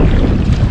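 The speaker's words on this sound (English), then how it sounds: "wind gusts are really picking up" Strong wind gusts buffet the open water during kayak fishing near Tallahassee, a steady loud roar close to the microphone.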